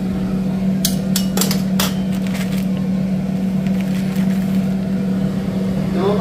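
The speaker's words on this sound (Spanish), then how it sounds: "Y ahí disculpen el ruido porque tengo aquí la campana encendida." Kitchen range hood fan running with a steady low hum and airy whoosh throughout, joined early on by a few sharp clinks and knocks of kitchen work while buñuelos are being prepared.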